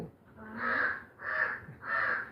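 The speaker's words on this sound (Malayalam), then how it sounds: "ഇന്നെന്താ ഒരു കാക്ക ഇങ്ങനെ കരഞ്ഞുകൊണ്ട് നിൽക്കണ്" A crow caws three times in a steady rhythm, loud and fairly close, with no other sounds.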